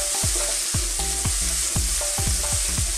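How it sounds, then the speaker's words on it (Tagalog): Tomatoes sautéing in a pan for shrimp halabos, a loud constant sizzle with a quick regular series of spatula knocks and scrapes close by. "susunod na natin ang kamatis. Yan, gigisa lang tayo."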